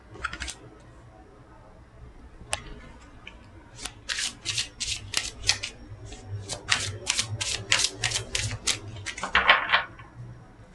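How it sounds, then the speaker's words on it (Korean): Tarot cards laid out one by one on a surface: quiet, crisp card snaps and flicks that grow into a quick irregular series of clicks, with a soft background hum. "카드 나열을 좀 해볼게요"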